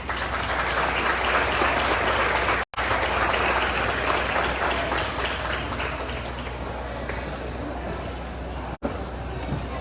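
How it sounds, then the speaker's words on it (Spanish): A conference audience at a financial education week claps warmly for Melchor de los Santos of Guy Carpenter. The dense, sustained applause fills nearly ten seconds, broken by two brief dropouts and easing slightly toward the end. "para quienes pido un fuerte aplauso."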